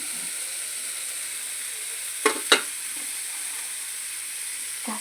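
Cumin and spices frying in a pan hiss with a constant soft sizzle, broken by two sharp clattering stirs near the middle, close by and without voices.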